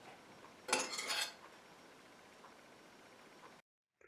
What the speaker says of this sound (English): let's just cover these little things with a lot of garlic butter